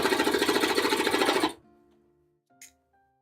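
A sewing machine stitching through fabric during buttonwork, a fast even run of mechanical thumps that stops abruptly, then a quiet pause and a small click, close and clear.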